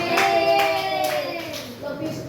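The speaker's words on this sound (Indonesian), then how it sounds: "beri tepuk tangan kepada Kak Rira dari kelompok" A short burst of hand clapping from a small group in a classroom, sparse and uneven, with voices and a tonal hum underneath, fading out quickly.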